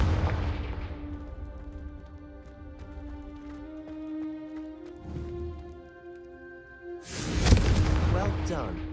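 Blast from the Confringo spell in the Hogwarts Legacy video game: a loud explosive burst near the end breaks through sustained musical tones.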